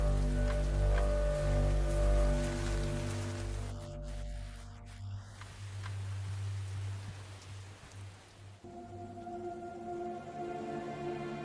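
Rain falling across the East African savanna during the long rains, a steady broadband patter with a low rumbling bed, continuous and fairly soft, with no voices.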